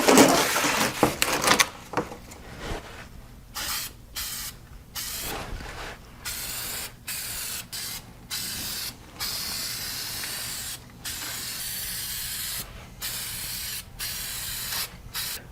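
An aerosol can hisses in repeated bursts of varying length while coating the underside of a lawn mower deck for winter storage, with short silent gaps between sprays and a louder opening.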